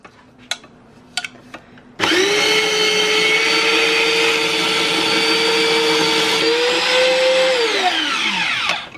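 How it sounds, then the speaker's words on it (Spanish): An electric grater shredding pumpkin kicks in after about two seconds of quiet clatter, then holds a loud, steady motor whine for over five seconds before spinning down and cutting off. "Y vamos a proceder ya a rallar."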